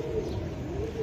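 A Giribaz pigeon coos close by in a low, steady, throaty murmur, heard in a brief continuous burst.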